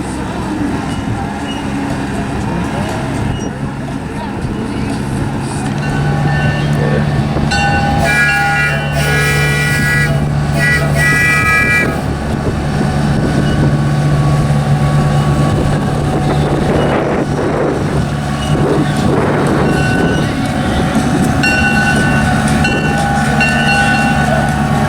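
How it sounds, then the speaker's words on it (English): A small CP mini ride-on train runs around a lot, rumbling steadily with rail clatter and a few brief whistle-like tones, and voices talk faintly nearby. "There was also a little CP mini train that people could ride around the lot."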